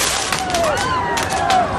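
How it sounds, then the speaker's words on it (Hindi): Firecrackers hurled by angry protesters at Trump supporters during a street scuffle: several sharp cracks and bursts, some with rising whistling tones, pop over a dense crowd din. "एक जगह कुछ प्रदर्शनकारियों ने गुस्से में ट्रंप को पसंद करने वाले लोगों पर पटाखे तक छोड़ दिए"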